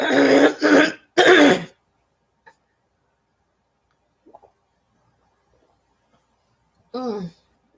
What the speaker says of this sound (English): I'll get a catch in my throat and I'll just cough and cough and cough